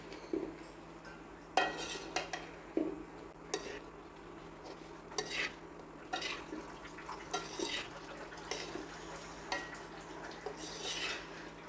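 Mango pickle ingredients, including Kashmiri chilli powder, being stirred together in a bowl, with scattered scraping and clinking of a spoon against the vessel at close range, no voices.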